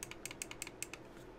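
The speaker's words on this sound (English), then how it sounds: "I'm actually clicking on the mouse." Soft, quick clicks from a computer mouse and keyboard come close together in an uneven run of about ten sharp ticks. They are faint and close, with no voice.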